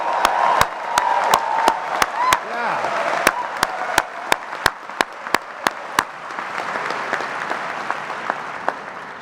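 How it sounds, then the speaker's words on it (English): A large outdoor graduation crowd at a business school diploma ceremony claps and cheers for the class, dense applause with sharp individual claps standing out, fading and thinning toward the end. "How about a howling bulldog cheer for the class of"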